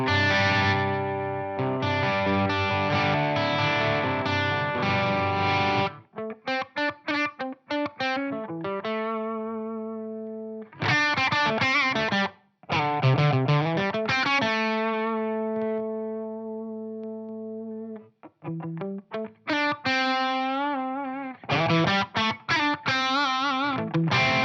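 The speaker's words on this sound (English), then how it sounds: "Maybe let's go to OD1. That is, after all, an overdrive channel." Electric guitar runs through a Marshall JMP-1 preamp on its OD1 overdrive channel with gain set low at 4, giving crunchy, slightly compressed chords and single-note phrases with short pauses between bursts.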